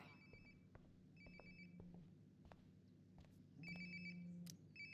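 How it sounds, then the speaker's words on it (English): A phone rings nearby in a video game, repeated short electronic trill bursts at a steady rhythm, faint under low rumbling ambience. "Sounds like my phone is definitely nearby."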